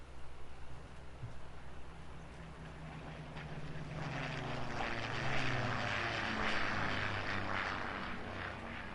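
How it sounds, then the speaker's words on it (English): A propeller airplane drones overhead, a steady broad rumble that swells gradually and holds, heard faintly at a distance with no voices. "Got a plane over"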